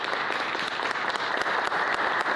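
An audience claps continuously after a saxophone quartet and woodwind trio concert at Juniata College, a dense, even wash of applause with no voices.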